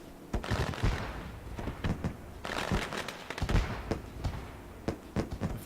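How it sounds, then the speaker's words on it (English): Fireworks bursting during a racing video game truck series event at Gateway, a rapid irregular string of sharp cracks and pops of varying loudness, continuous throughout with no talking. "So given the fireworks time to run out"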